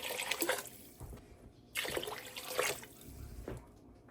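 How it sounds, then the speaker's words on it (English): Water splashes and trickles in uneven bursts, fairly quiet and close, as it is poured into a pot of washed potatoes. "Going in with 6 cups of water."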